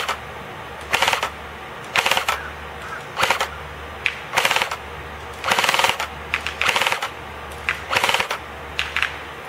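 A G&P M16A3 airsoft rifle fires on full automatic outdoors, loosing a string of short, sharp rattling bursts with brief pauses between them, close and fairly loud.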